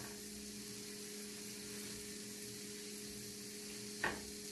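Cheese crust fries and browns on a griddle with a faint, steady hiss, broken near the end by a single short scrape or tap.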